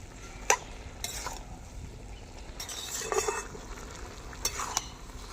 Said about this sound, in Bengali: এবার নাড়িয়ে চাড়িয়ে নিচ্ছি